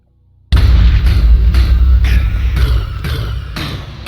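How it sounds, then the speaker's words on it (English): A Minecraft explosion goes off with a sudden loud boom, then a dense rumbling roar with crackling bursts that keeps going for several seconds, close and alone with no talking. "let's run away for the explosion"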